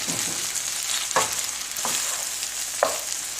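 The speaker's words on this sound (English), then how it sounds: "Now we just got to mix it well, and we can switch it off and mix also" Vegetables for peanut butter pasta stirred in a hot pan, with a few spaced spatula scrapes over a steady, close frying hiss.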